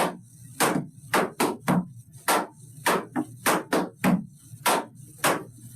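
Tap shoes strike a hard floor in a lesson, about a dozen crisp, loud metallic taps in uneven groups of heel and toe beats, close and dry with short gaps between them.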